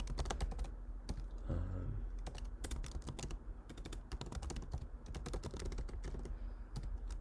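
Rapid typing on a computer keyboard entering a folder path, with dense, steady key clicks running throughout at close range and no talking.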